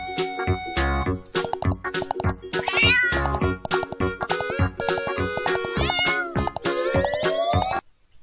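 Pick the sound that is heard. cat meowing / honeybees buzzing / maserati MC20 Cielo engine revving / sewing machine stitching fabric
cat meowing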